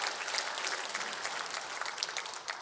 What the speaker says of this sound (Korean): 박수로 축복합시다